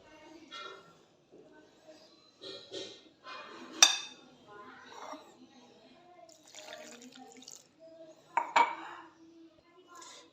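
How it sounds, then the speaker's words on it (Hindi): Quiet clinks and scrapes of a spoon stirring water into a batter mixture in a bowl, with occasional sharper knocks against the rim. "इस मिक्सचर को हम अच्छी तरह घोलेंगे।"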